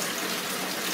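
Water runs steadily off play sand being rinsed, a constant close hiss of flowing water with no break and no voices.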